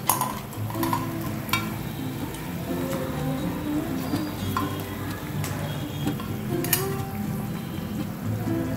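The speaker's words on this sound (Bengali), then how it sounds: "এবার আমি এতে মাছ ভাজাগুলো ছেড়ে দিচ্ছি।" Fried puti fish is tipped into a hot pan of oil and sizzles steadily, with light stirring scrapes and occasional clinks of a utensil against the metal.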